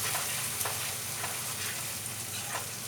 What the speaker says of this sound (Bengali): টমেটো পিউরিটা তেল ছাড়া অবধি বেশ কষাতে হবে